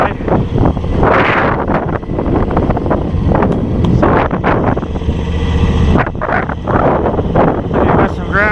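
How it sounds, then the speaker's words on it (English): John Deere 54-inch snow blower mounted on an X724 tractor throwing heavy wet snow, a steady loud engine and blower roar with gusty wind buffeting the microphone and surging bursts throughout. "that's the first blow with the blower"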